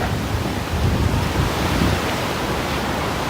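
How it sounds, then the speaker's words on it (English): Steady, roaring wind noise buffets the microphone in downtown Toronto on a Friday night after rain, a constant broadband rush with slight surges and no voices. "It's super windy"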